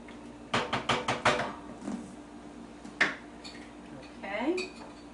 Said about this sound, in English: I'm going to stir this pasta a little bit.